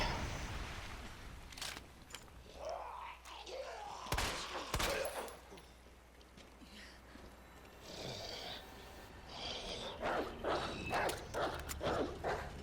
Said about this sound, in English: Okay, so we only really care about that dog.